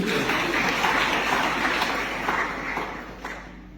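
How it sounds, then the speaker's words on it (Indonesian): A church congregation at a Sunday service in Jayapura claps together, a busy wash of applause that softens slightly toward the end. "kita kasih tepuk tangan dulu"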